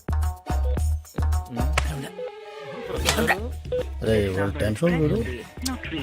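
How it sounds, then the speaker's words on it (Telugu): A phone is dialed in a Telugu comedy film scene, a quick run of evenly spaced beeping tones at the start, then people talk over a quieter background. "ఈ ఫోన్ ఒకటి కలుస్తలేదు"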